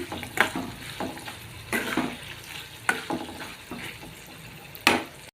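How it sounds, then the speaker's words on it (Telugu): Green and dried chillies frying in tempering oil, a steady soft sizzle broken by occasional stirring scrapes and pops, close but fairly quiet. "పచ్చిమిర్చి కూడా వేగిపోనియండి ఎండుమిర్చి కూడా వేగిపోని చూడండి"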